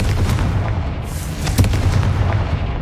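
A Confringo spell detonates in Hogwarts Legacy, a booming game explosion with a sharp burst near the middle over a rumbling, crackling backdrop.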